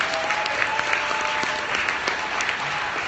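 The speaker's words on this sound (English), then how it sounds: "Give them a round of applause." A room full of attendees at a leadership panel applauds, a steady wash of clapping that continues throughout.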